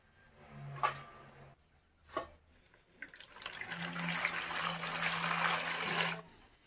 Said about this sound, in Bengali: শাকগুলো আমি এখন ভালো করে ধুয়ে নেব।